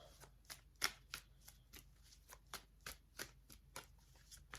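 Tarot cards being shuffled by hand in a quick, steady run of soft riffling flutters, close and faint, with one card popping free.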